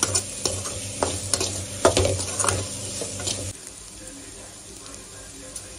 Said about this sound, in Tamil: கேரட் 1 கப்பு, குடமிளகாய் 1 கப்பு சேர்த்துட்டு நல்லா வதக்கிடுங்க.